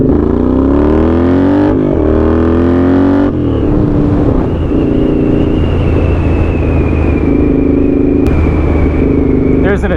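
A Honda GL650 motorcycle revs hard through rising throttle sweeps, then settles into a loud, steady drone as it accelerates close by, with the engine note climbing and falling in strong repeated waves.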